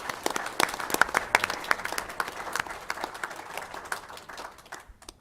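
An audience at a school board meeting claps, scattered sharp hand claps blending into a moderate round of applause that thins out and fades near the end, medium distance.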